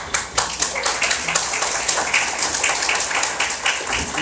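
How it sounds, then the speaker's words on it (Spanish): Audience applauding the introduction of a book writer at a presentation, loud continuous clapping with distinct sharp claps standing out nearby, steady for the whole stretch with no talk over it. "Un aplauso."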